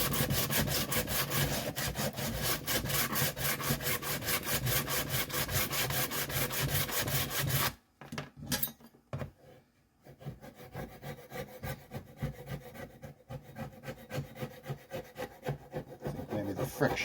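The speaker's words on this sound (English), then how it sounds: "I wonder what would happen if I tried a little sandpaper on this, the rest of the residue. 80 grit, which is pretty severe." Coarse 80-grit sandpaper rubs residue off an outboard motor cowl in fast, rhythmic back-and-forth strokes, loud and close, then pauses and returns as slower, quieter scrubbing strokes.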